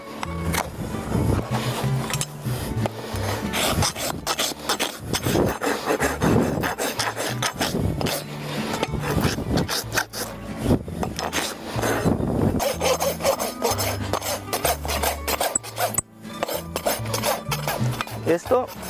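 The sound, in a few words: rasping a horse's hoof to level it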